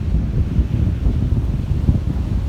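Outdoor wind buffets the microphone in a steady low rumble with gusty swells, moderately loud and continuous, with no voices over it.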